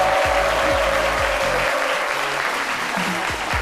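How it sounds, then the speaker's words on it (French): A TV studio audience applauds loudly as a guest, the president of a chimpanzee organisation, is welcomed onto the set of a midday show, continuous dense clapping throughout, with faint low tones beneath. "Merci de l'applaudir très très fort."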